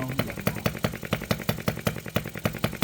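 OKMO 1110 miniature replica of a 1950s Japanese engine running: a rapid, even chugging with sharp regular firing pops, about five per second, close and clear.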